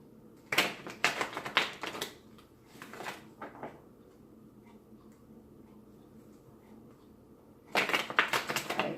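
Bursts of rapid papery riffling and clicking as tarot cards are shuffled, with a quiet pause between bouts before another flurry.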